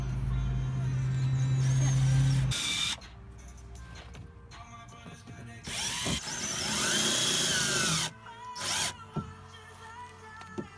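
A power drill drives fasteners into a rear bumper air diverter in a loud whirring burst, then after a pause comes a second, longer run and shorter bursts, with clatter and handling noise between them.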